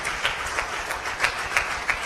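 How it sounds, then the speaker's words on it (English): Audience applause at an evening event, a steady wash of clapping with a few louder swells across a short stretch, no voices over it. "can I ask your applause for the media team here?"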